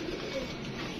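Pigeons coo steadily at a home pigeon loft, a soft continuous murmur mixed with low background noise across the whole second.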